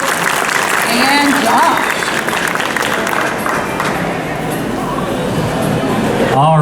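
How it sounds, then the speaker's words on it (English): A crowd at a cosplay contest applauds the cosplayers with sustained, loud clapping, with a brief spoken phrase and crowd chatter mixed into the noise before it fades near the end. "Let's give a round of applause for all the cosplayers that came out today."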